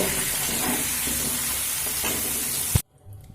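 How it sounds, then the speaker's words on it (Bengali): Pumpkin pieces fry in hot oil with turmeric and salt, giving a loud, steady sizzle close up with occasional stirring scrapes. The sizzle cuts off abruptly near the end, leaving near silence. "কুমড়োটাও আমি একইভাবে ভেজে নেব দিয়ে দেব অল্প পরিমাণে হলুদ আর অল্প পরিমাণে লবণ"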